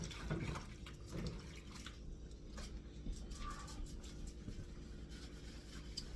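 Hands swish and slosh in a basin of bleach water in a home kitchen, a faint, soft, continuous stirring of liquid with no talking.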